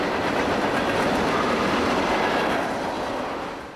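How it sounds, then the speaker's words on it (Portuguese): A train rolls past right beside a station, loud and close, a steady broad rumble with clattering wheels that holds for several seconds before starting to fade. "A gente mora do lado de uma estação de trem. Então, é tipo assim, é trem toda hora."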